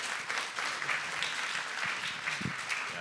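An audience at the ASU+GSV Summit 2024 applauds the panelists after a higher-education panel: a steady, dense wash of clapping, fairly soft and distant, running the whole time without clear talk.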